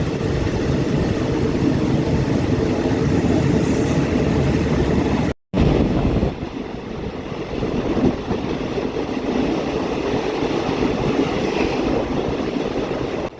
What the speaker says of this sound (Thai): ขบวนรถของเราเพิ่งออกจากสถานีรถไฟนครปฐมมาได้ไม่นาน